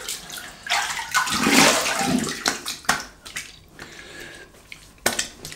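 Water runs over an Executive Shaving Outlaw safety razor during a quick rinse, with a steady splashing hiss that swells and fades across several seconds and some sharp clicks and knocks in between.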